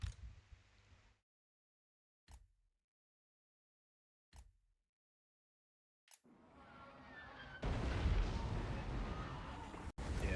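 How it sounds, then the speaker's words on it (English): Cannons firing in the fantasy battle game Total War: Warhammer during an orc army's advance: three separate muffled booms spaced out over silence, then a swelling, dense roar of battle noise. "I'm not really enjoying getting hit by the cannons, that's for sure."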